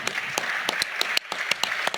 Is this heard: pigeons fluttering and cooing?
no